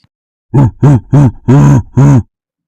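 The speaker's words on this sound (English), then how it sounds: "gorilla," A gorilla gives five loud, close, deep grunts in a steady rhythm, each short and throaty, with brief pauses between them.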